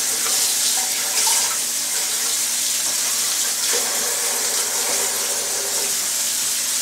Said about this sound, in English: then I'm going to run it under cold water again.